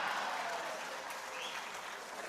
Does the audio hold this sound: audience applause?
yes